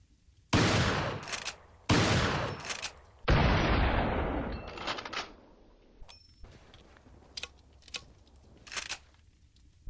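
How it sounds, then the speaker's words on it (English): A 12-gauge pump-action shotgun fires in Resident Evil 4: three loud, close blasts with decaying tails, each followed by sharp mechanical pump clicks and clatter, then quieter handling clicks. "A 12-gauge pump-action shotgun."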